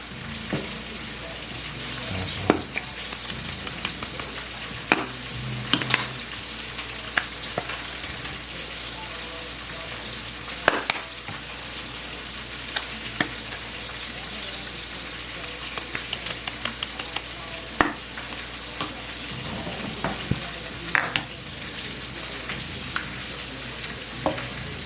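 Sausage fries in a pan with a steady dense sizzle throughout, broken by frequent scraping and clacking of a utensil stirring, under occasional faint background voices.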